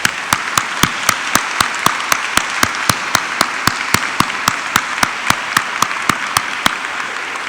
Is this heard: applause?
yes